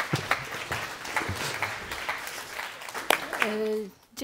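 Scattered, fairly sparse audience applause rises at a business meetup as a speaker is welcomed to the stage, with a voice talking at the end.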